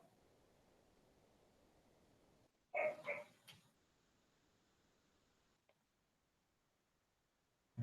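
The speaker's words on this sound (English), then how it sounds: "Dogs are barking." Dogs bark a few times in quick succession in the mid-distance, short loud bursts followed by quiet background hiss with a faint tap, no talking.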